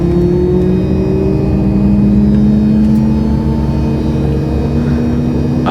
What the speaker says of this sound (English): Engine number 2 starts.